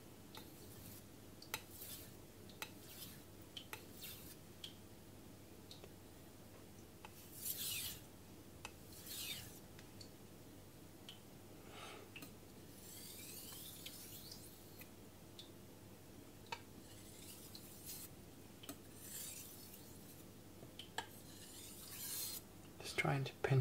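A knife is honed on a Morihei Karasu 9k whetstone to remove the burr, giving faint, close, intermittent scraping strokes in a quiet room with no speech.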